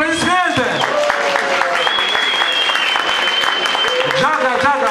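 Sustained audience applause at an African culture festival in Moscow fills the whole stretch, dense and steady, with a high sustained tone and shouted voices layered on top.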